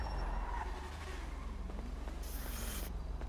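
In a video game, a car rumbles and its tires skid in a drawn-out squeal with a shifting engine tone, fairly faint, and no talking.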